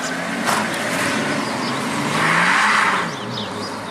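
A BMW 635d twin-turbo diesel coupe accelerates on the road, its engine note swelling steadily from inside the cabin, with a steady rush of road and wind noise underneath.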